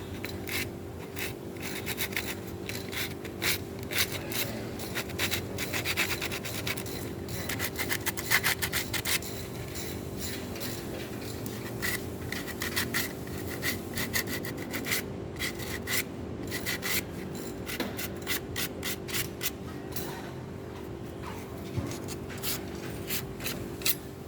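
Sandpaper is rubbed by hand along the edges of a car brake pad in steady, close, scratchy back-and-forth strokes that continue without pause.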